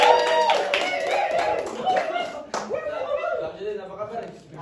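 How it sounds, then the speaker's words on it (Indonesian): Applause breaks out in a podcast studio as a guest is welcomed, brief clapping mixed with chuckles and voices talking over it. "Tepuk tangan."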